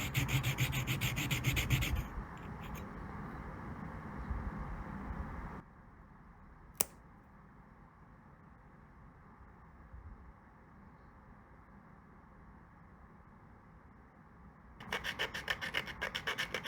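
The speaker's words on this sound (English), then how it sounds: "I can finally finish cutting the joint." Rasping, filing-like cutting on a small handmade jointed wooden crankbait lure, loud and close at the start and again near the end, with a quieter muffled stretch in between and no speech.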